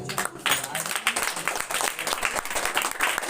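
Students applaud at a school prize distribution, a dense sustained burst of clapping from a crowd close by that fills the whole stretch at steady loudness.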